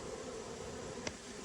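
Honeybees flying in and out of a hive, a soft continuous buzzing hum, faint and steady, with one brief sharp tick partway through.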